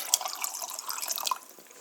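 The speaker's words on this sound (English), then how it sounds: "pour the water" Water pouring into a mug over ice cubes and drink mix, a short splashing, trickling stream heard up close, fading out toward the end.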